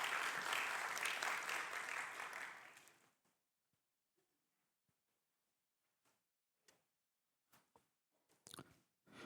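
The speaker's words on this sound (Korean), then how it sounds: "우리 두 청년에게 다시 한번 박수하면 좋겠습니다." A church congregation applauds together for about three seconds, a dense burst of clapping that fades into near silence broken by scattered small clicks and rustles.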